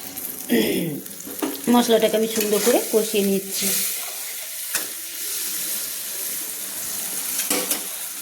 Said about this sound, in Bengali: দিয়ে আমি মশলাটাকে দেখুন সুন্দর করে আমি কষিয়ে নিচ্ছি